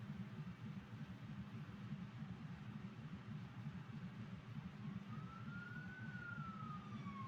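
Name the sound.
emergency siren sound effect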